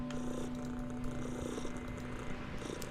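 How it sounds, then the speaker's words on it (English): Steady, continuous cat purring in the video game Underrail, an even low rumble running throughout with faint ambient game sounds around it. "Feel the cat's purring all over the place."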